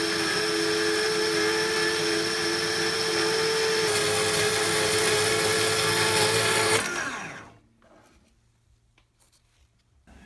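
Power drill boring holes in metal brackets, a loud steady high whine running for about seven seconds before spinning down and stopping, leaving near silence.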